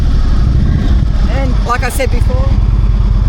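A motorcycle engine idles with a steady low rumble, holding a dense throbbing beat throughout, while someone talks over it.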